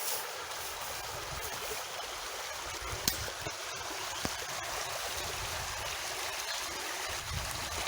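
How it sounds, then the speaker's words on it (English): A shallow river flows steadily past, its broad rushing hiss constant and fairly close, with a couple of faint clicks and no voices. "just the sounds of the rivers"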